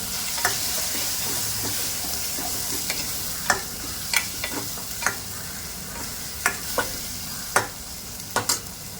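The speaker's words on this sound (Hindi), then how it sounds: "ये सारी चीज़ों को हम इसके साथ में अच्छे से भुनाई करेंगे।" Kidney masala fried with chili powder, coriander powder and garam masala in a pan, a steady loud sizzle with sharp spatula clicks and scrapes at irregular intervals, close by.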